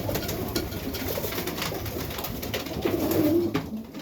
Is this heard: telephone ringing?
no